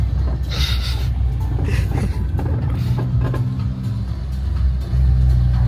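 A Mazda MX5 idles nearby with a steady low engine rumble, while faint clicks and light mechanical noises sound over it throughout.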